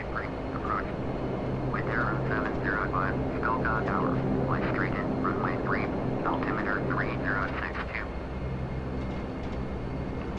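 Majestic Q400 turboprop airliner taxiing in a flight simulator, a steady engine drone with a low tonal hum throughout, while a person talks over it.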